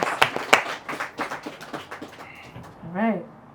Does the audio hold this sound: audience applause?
yes